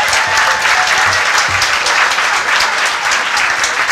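Loud, sustained applause from a gala audience honoring table captains, dense and even clapping filling the room for several seconds.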